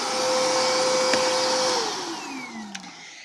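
A Kenmore 600 Series Pop-N-Go canister vacuum runs with a loud, steady motor whine, then powers down, its pitch sliding downward as it winds to a stop.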